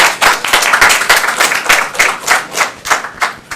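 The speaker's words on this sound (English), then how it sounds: "He's the one who should get the applause" Audience at a public forum on the Ebola virus claps loudly and close, a dense burst of hand claps in uneven pulses without voices.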